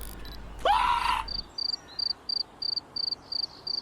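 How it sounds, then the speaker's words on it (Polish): Cricket chirping from the game We Become What We Behold: a row of short, evenly spaced high chirps, bright and clear, following a brief synthetic squeal at the start. "Jest świerszcz."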